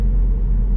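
A Ford Fiesta ST MK8 with a Scorpion GPF delete exhaust idles with a deep, steady low rumble, close and loud, with no voices over it.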